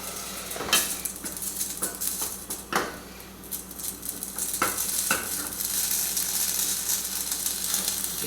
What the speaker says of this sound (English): You can hear the water crackling in there.